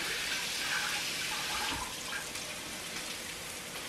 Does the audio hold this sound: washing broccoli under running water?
yes